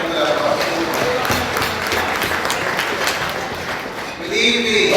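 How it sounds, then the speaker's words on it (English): Applause from the audience at a 20th anniversary alumni gala, a steady clapping wash that lasts throughout with voices and cheers mixed in and a brief swell near the end. "Let's give them a round of applause again for that bus."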